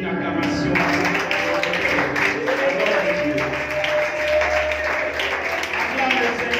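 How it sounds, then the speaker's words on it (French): A church congregation claps and cheers in a dense, continuous wash of applause, with voices and music tones mixed in. "Est-ce qu'on peut donner une acclamation à Dieu?"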